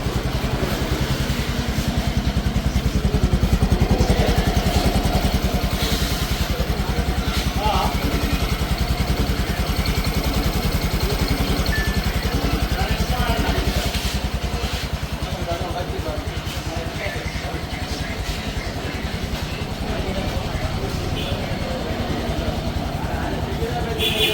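A new motorcycle engine runs steadily in the foreground, a continuous mid-pitched hum with light clatter holding at even loudness throughout, while people talk over it nearby at a bike showroom.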